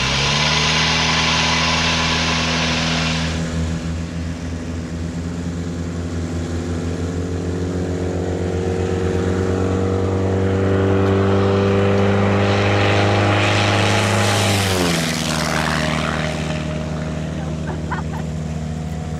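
A small propeller airplane engine roars at full power during a takeoff roll on runway 27, a loud steady droning hum whose pitch climbs and then shifts near the end, with a brief radio call over it.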